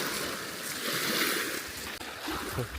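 Sea water washing and lapping steadily against the shore at Pennan, Scotland, a continuous broad rushing with gentle surges, close by.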